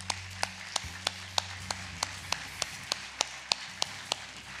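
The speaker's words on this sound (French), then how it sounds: "Je pense qu'on peut encore les applaudir." An audience at a mayor's New Year address claps in unison to a steady beat, with crisp, evenly spaced claps about three per second over a low, faint background tone.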